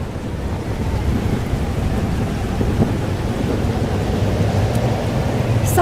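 Heavy rain and thunder in the video game Life is Strange: Double Exposure, a loud, dense and continuous wash of rainfall with a rumbling low end and no voices.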